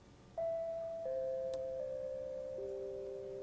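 A doorbell chimes in a home, sustained two-tone electronic notes stepping down in pitch, fairly loud and close with a faint click partway through, no voices.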